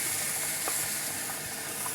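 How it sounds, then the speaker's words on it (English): A steady hiss of hot tap water pours continuously into a kitchen drain after draining hamburger grease, close and fairly loud, with faint clinks underneath. "I like to run hot water so the grease does not, if there is any grease in there, does not clog the drain"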